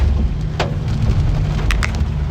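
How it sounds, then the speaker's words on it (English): Hail pounds a car during a severe Pennsylvania storm, a dense steady patter on the body with a few sharper, louder knocks standing out, close and continuous with no talk. "This is all hail."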